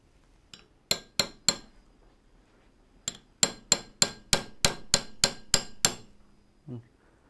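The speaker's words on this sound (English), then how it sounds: "I'll just use a hammer and the medium pen punch and just kind of catch the punch right on the side of the bushing" Hammer blows on a medium pin punch driving a brass bushing out of a Dramm MS Series hydraulic sprayer pump: three sharp metallic strikes, a pause, then a steady run of about ten close, ringing taps.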